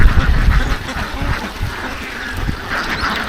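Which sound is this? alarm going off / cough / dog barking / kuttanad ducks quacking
kuttanad ducks quacking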